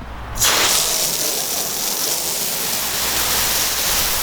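Water spraying hard onto a car windshield treated with Griot's Garage Glass Sealant, a loud sudden hissing gush that starts abruptly and continues as dense, even spray.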